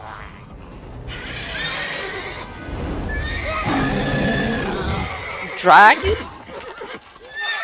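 Roach, the horse in The Witcher 3, neighs and whinnies with clip-clop hooves under a man's speech, a sharp loud whinny standing out near the end.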